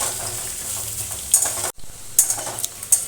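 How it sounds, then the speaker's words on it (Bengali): Thin, long strips of cut potato fry in a pan with a steady close sizzle, broken by a few sharp scraping stirs and one brief dropout midway, with no talking. "আলুটা 2-3 মিনিট ধরে একটু ভেজে নেব।"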